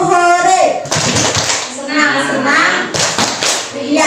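A group claps along to a cheerful tepuk hore chant in an Indonesian teachers' session, with sharp rhythmic claps mixed with loud chanting voices close by.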